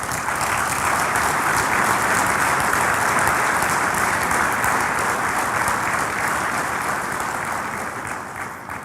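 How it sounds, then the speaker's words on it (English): Sustained loud applause from delegates at the 33rd AFC Congress in 2023, acclaiming Sheikh Salman bin Ibrahim Al Khalifa's election as AFC President; dense steady clapping fills the room, easing slightly toward the end. "your acclamation with a round of applause."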